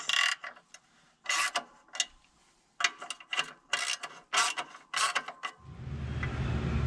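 Ratcheting and rasping as bolts are tightened while installing an Eaton Advantage clutch, in repeated short bursts with brief pauses, then a steady low mechanical rumble at the end.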